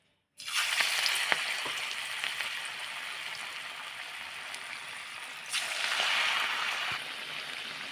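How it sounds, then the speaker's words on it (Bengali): Drumstick flower fritters drop into hot white oil in a kadai and burst into a loud, close, bright sizzle that holds steadily, then a second batch swells the frying hiss again. "তেলটা আমার গরম হয়ে গেছে এবার আমি একে একে করে বড়া ছেড়ে দেবো"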